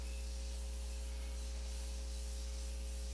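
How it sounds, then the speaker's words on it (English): A makeup setting spray mists steadily and faintly, a soft continuous hiss over a low background hum, with no talking. "Let's give it a spray."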